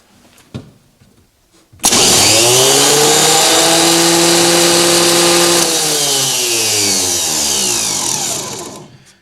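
A Delco 5MT alternator for a 1986 GMC, rated 80 to 130 amps, spins up on a bench tester with a loud steady whine and hum that holds for several seconds and then winds down, with no one talking.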